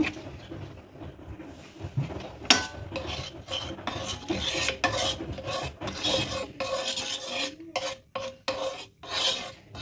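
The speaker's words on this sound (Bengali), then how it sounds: "এইভাবে আমি তেলটাকে একটুখানি চারদিকে বুলিয়ে নিলাম।" Oil being spread around a tawa griddle pan on a gas stove, close scraping and rubbing strokes of metal on metal in an uneven rhythm, repeated several times, no talking.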